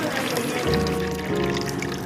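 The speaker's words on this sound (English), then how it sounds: "That is water dispenser." Water pouring from a homemade dispenser built from recycled wood board and scrap materials, a continuous close splashing trickle with faint background voices.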